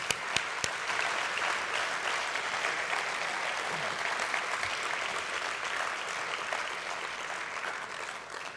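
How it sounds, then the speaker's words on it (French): An audience at a formal gathering applauds steadily, with a few sharp isolated claps at the start before the clapping settles into a continuous, fairly distant wash. "Il mérite nos applaudissements."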